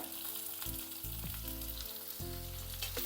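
Chopped onion, green beans and carrot sauté in a hot pan after curry leaves for a pearl millet khichdi, making a strong, continuous sizzle with a steady tonal hum underneath.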